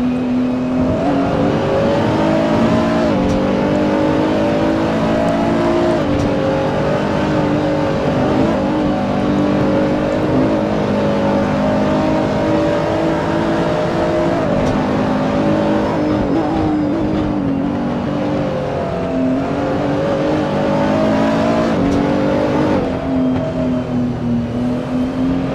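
Race cars lapping the Nürburgring GP circuit in a racing video game, engines droning steadily with layered revving tones and shifting pitch throughout, loud and continuous with no talk.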